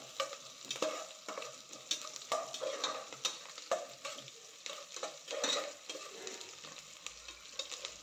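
Garlic fries in a pan with a soft, steady sizzle, broken by frequent scraping and tapping of a utensil as it is stirred, heard close and fairly quiet.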